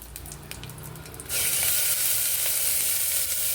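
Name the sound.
kurma masala paste with onion frying in pressure cooker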